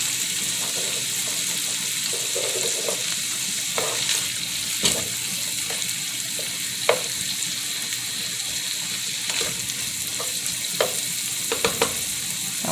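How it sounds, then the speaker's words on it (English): Onions and meat fry in a pan for Southern-style green beans, a loud, steady sizzle with scattered pops and clinks of stirring throughout, with no voices over it. "I'm going to go ahead and let that cook until my onions become translucent and my meat is tender."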